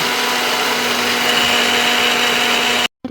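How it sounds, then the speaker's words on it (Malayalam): A mixer grinder jar blends washed finger millet with a loud, steady whirring drone close by. The motor cuts off abruptly just before the end. "മോന് മുത്താറ് കാച്ചാൻ വേണ്ടി കഴുകി വൃത്തിയാക്കി അത് മിക്സിൻ്റെ ജാറിലോട്ടിട്ട് അടിച്ചു വെച്ചു"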